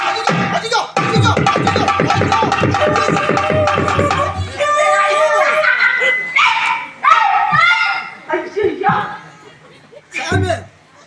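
Dogs bark and yip loudly and repeatedly during a village stage comedy play, a dense run of barks at first, then scattered whimpers and yelps amid voices and crowd noise.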